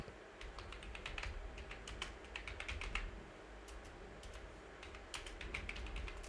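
Quick keystrokes on a computer keyboard while entering a narration line in Tally Prime accounting software, clicking in short irregular bursts with pauses over a low, steady room hum.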